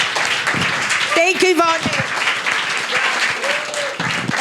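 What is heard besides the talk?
audience applause at NYU event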